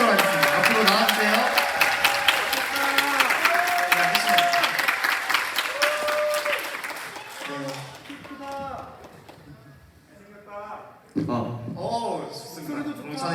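An audience applauds warmly as a university student guest is welcomed onto a Korean radio show stage, a dense sustained round of clapping that fades out toward the end, with voices speaking over it.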